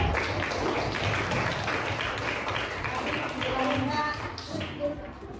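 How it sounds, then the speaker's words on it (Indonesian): Primary school classroom children clapping for a classmate, a dense patter of applause that runs for several seconds and thins out toward the end, with chatter mixed in. "Tepuk tangan dulu buat temannya."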